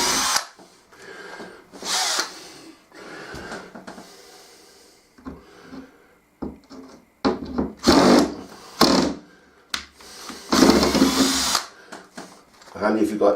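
Bursts of a power drill pulling pins out of a removable cliff face model, several short whirring runs with pauses, loud and close, with someone talking in between.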